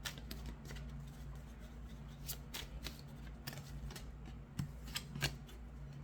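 A tarot card deck being shuffled by hand, giving soft, repeated riffling and slapping bursts at close range against a faint steady hum, with no talking.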